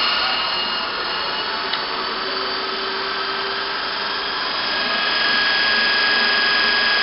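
DC motor running with its speed raised by armature voltage control, a steady loud whirring whine that holds nearly constant for several seconds and swells slightly toward the end.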